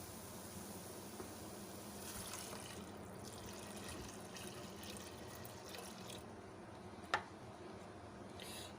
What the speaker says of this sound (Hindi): पानी डाल दिया हमने इसके अंदर।